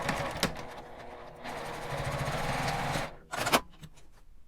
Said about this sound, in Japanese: 待ち針を刺した状態でミシンの針を落としてで抜き取ってまっすぐ縫います。